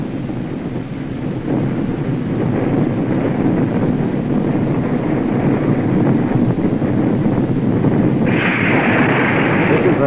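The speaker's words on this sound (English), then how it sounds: "Our nation successfully explodes its second nuclear bomb in the sky over the western part of our" Archival recording of a nuclear bomb exploding in the sky, a continuous deep rumbling roar with heavy wind-like buffeting that holds loud throughout, with a brighter hiss rising near the end.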